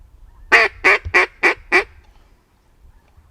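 Wild ducks answering a duck call, a quick series of five loud, close honking quacks in an even rhythm, followed by quiet outdoor background.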